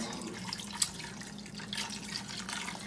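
Water is poured into a roaster pan holding elk rouladen and leftovers from a cast-iron pan, a soft, continuous splashing and trickle with a brief drip sound near the start, close and fairly quiet.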